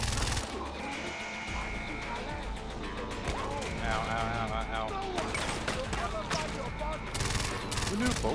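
Sustained machine-gun fire and scattered shots from the game Far Cry 4 rattle on steadily at moderate loudness while someone talks over the action.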